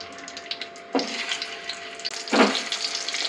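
Boiled potatoes deep frying in oil with masala while being stirred, giving a steady broadband sizzle with two louder bursts as the pieces are moved, no talking.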